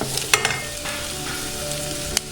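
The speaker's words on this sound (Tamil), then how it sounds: "வெங்காயம் நல்லா வதக்கிக்கோங்க." Chopped onions sautéing in a hot pan for a vegetable spring roll filling, a steady close sizzle with a few sharp pops and stirring clicks, no voices.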